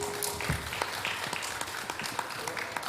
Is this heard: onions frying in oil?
no